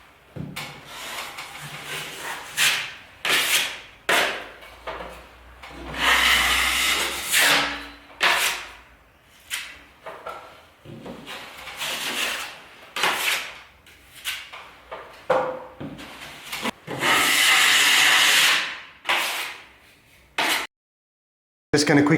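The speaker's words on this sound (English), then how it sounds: "Just going to quickly sand this area, prime it, and then paint it." A skimmed plaster patch on a water-damaged ceiling is sanded by hand in repeated rasping strokes, loud and close, with brief pauses between bursts.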